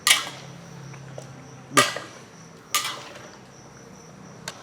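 Chicken sautéing in a pan for Hainanese chicken gives a steady, faint hiss of sizzling, broken by three sharp utensil clanks against the pan, with no talking.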